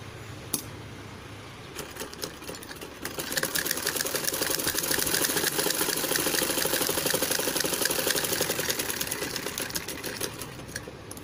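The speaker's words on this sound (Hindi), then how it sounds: "अब हम इसकी साइड की स्टिचिंग कर लेते हैं" A sewing machine stitches the side seam of a baby frock, starting after a few short clicks and then running in a steady, fast, close mechanical whirr that slows slightly near the end.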